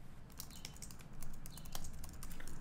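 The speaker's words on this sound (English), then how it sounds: "I'm just going to try to type hello world." Quick, light key presses on a computer keyboard type out a short line of code, a brief irregular patter of clicks heard close and alone.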